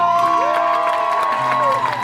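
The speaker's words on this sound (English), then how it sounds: "Lords and ladies, a royal round of applause for Princess Rapunzel!" A theme-park audience at a Tangled stage show in Disneyland's Fantasy Faire cheers and whoops for Princess Rapunzel, with sustained crowd noise, children's shouts and scattered clapping over a bright musical fanfare.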